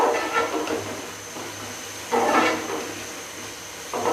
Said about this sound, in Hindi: ये मैं चिकन को करती हूँ फ्राई